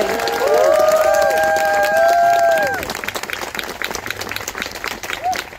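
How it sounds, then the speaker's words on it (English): A large outdoor crowd at a rainbow crosswalk ceremony in Redmond claps and cheers loudly, with whoops and whistles over the dense applause, which thins out into scattered clapping after a few seconds. "So please join me in giving Jing a heavy round of applause."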